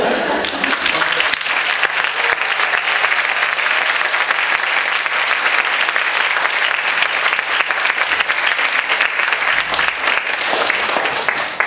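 Sustained, loud applause fills a hall for lecturer Choi Jae-chun after his special talk at a leaders' concert, a thick continuous roar of many hands that never lets up.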